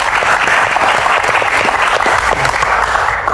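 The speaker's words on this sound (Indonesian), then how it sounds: "Tepuk tangan dulu" Audience at an Indonesian talk-show event breaking into loud, dense clapping that continues steadily without pause.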